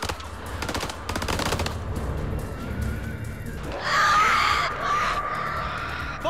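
Rapid automatic gunfire in the video game House of Ashes, loud and close during the first seconds, then giving way to shouting and other game noise.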